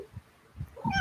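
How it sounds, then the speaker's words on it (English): A domestic cat gives a short meow near the end of the moment, heard close up, with soft murmuring and handling noise before it. "And this is my sister's cat."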